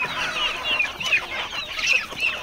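Desi country hens on a village poultry farm cluck repeatedly while pecking at feed, their short bright calls overlapping in irregular bursts at close range over a quiet background, with no talking.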